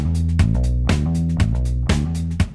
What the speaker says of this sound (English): they almost always rush the hammered-on note,